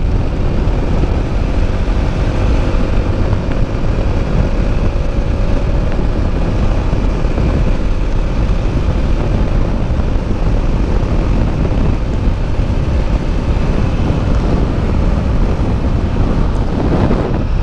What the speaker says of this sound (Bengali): সো চলো বন্ধুরা, বাইকটাকে আরও একটু বেশি স্পিডে ভাগাই